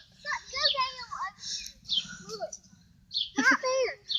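A baby bird chirps close by in high, thin cheeps that come in quick clusters separated by short pauses, with faint background sound underneath.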